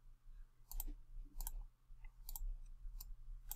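Computer mouse clicks, several sharp separate clicks spaced irregularly about once every half second to second, fairly close over a low steady hum of a computer or room.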